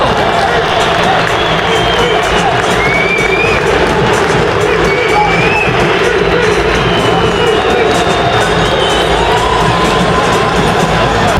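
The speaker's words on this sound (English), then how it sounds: "The crowd's going mental." A huge football stadium crowd at an England match roars continuously as the Albanian players come out, dense loud cheering with whistles and shouts layered over the din throughout.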